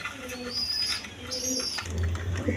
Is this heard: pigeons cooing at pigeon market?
yes